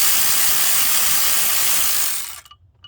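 A ratchet with a 10 mm socket working on bolts of an Audi TT MK1 valve cover, a fast, loud, continuous clicking run that stops abruptly near the end, leaving near silence.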